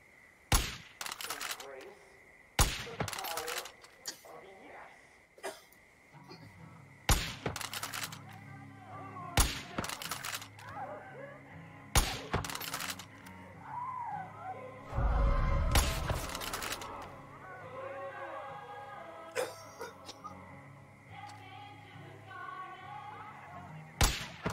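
Sharp gunshots in the Far Cry 5 video game crack out one at a time at irregular intervals, loud against a quiet background, with a heavier thudding blast midway and voices talking between shots.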